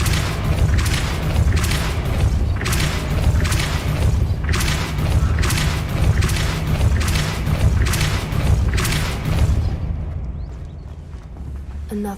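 Depulso spell effect in the Hogwarts Legacy video game, heard as a dense run of repeated booming thuds and bursts in steady rhythm over a low rumbling bed, loud and close, fading out near the end.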